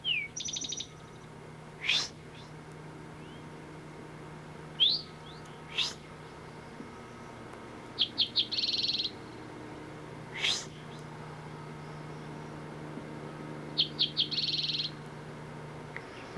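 Eastern towhee calls in brushy woodland-edge habitat: a series of short, sharp chirps and buzzy upward notes, some in quick clusters, scattered across a quiet background with no talking.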